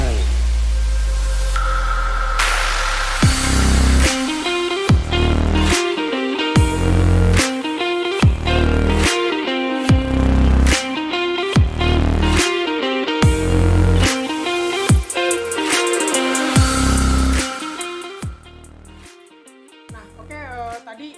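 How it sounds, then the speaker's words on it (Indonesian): A Yamaha R15 V3 fitted with an R9 H2 series exhaust, DB killer removed, revs hard in a run of sharp throttle blips, each a loud, raspy bark. The engine then drops back toward a quieter idle near the end. "itu impresi ketika knalpot tanpa DB killer"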